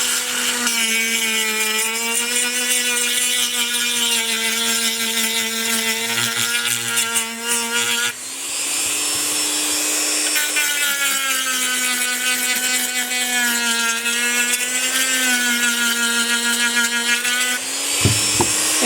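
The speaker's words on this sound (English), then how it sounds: "I'm doing it somewhere around middle range or middle power on my Dremel tool" A Dremel rotary tool at middle speed stippling a polymer Glock pistol frame, a loud, close, continuous high whine that wavers in pitch as it presses and lifts, with a brief dip partway through.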